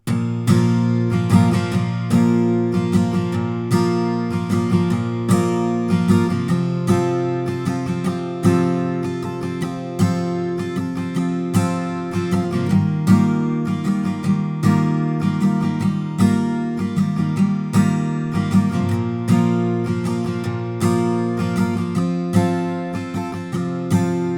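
Steady finger-strummed acoustic guitar chords in an even, rhythmic pattern, played close and fairly loud with no voice.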